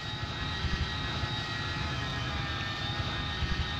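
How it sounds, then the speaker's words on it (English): Jet engines of an Avro Vulcan bomber in the Roblox flight game PTFS, a steady loud roar with a high whine running throughout, no voices over it. "Okay guys, so here's the Avro Vulcan."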